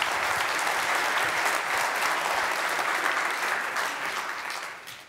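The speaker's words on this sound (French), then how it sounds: "Un tonnerre d'applaudissements pour lui, s'il vous plaît." Sustained applause from a conference audience after a talk about web performance and HTTP early hints, a dense steady wash of clapping that fills the room and fades slightly at the end.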